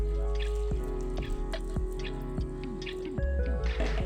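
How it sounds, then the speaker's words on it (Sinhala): Hot water poured into a coffee pudding mixture of coffee and sugar and stirred, with faint sloshing and a sequence of soft clinks and drips from a spoon in the bowl. "මේකට නටන උණු වතුර මිලිලීටර 500ක් දාලා හොඳට කවලම් කරගන්න"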